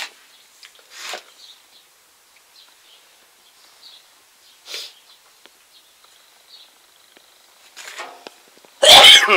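A single loud, sharp sneeze bursts out at the end of a quiet workshop stretch where a wooden steam cooker is being built, preceded by a few faint, scattered small noises.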